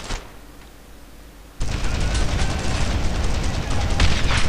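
A grenade in Brothers in Arms: Road to Hill 30 bursts with a sudden loud boom after a quieter stretch, followed by sustained roaring rumble and crackling gunfire that stays dense to the end.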